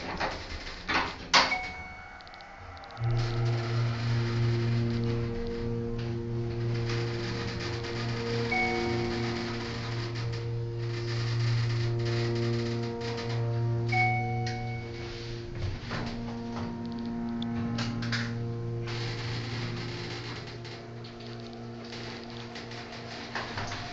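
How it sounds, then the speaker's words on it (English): Schindler MT hydraulic elevator motor running in a campus hall, a steady low hum with harmonic tones holding for about twenty seconds after a clunk starts it, with small clicks and knocks over the drone. "Let's listen to that motor."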